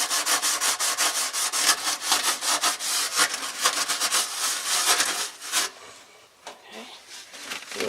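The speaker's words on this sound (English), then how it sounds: "and give it a really good scrub." A kitchen faucet part is scrubbed hard with a Brillo pad in quick, rhythmic back-and-forth strokes, close and crisp, before the rubbing slows and stops near the end.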